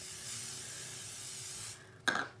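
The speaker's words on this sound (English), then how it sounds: "So really important that you give them a light coating of spray oil" Spray oil hisses in a steady, close burst as it coats panna cotta moulds, then cuts off, followed by a brief sharp knock or clatter near the end.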